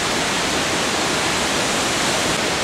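Water drips and splashes steadily over limestone at Hamilton Pool, heard as a dense, constant hiss of falling water that stays even throughout.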